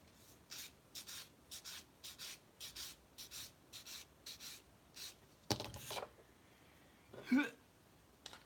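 A small diorama part is sanded in by hand for a 1943 Kharkov scale model scene, giving a dozen or so quick, rhythmic scraping strokes, close and quiet, followed by a couple of louder rubbing bumps near the end.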